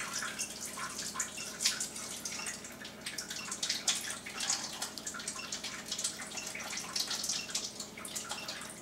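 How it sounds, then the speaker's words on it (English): Acid water pours from a Chanson Miracle water ionizer into a cup, a steady broadband splashing and trickling stream running throughout at moderate level, with no talk. "And I'll get some acid water here."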